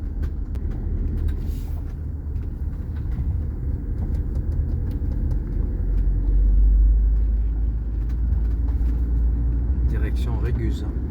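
A camper van drives along a road in the Verdon area of Provence, with a steady low engine and road rumble up close that swells around the middle of the stretch and has a few faint clicks near the end.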